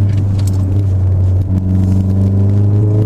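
A VW Golf 7 R with no intermediate silencer fills the cabin with a steady, loud, deep engine drone and booming resonance, heard from inside the car with no talking.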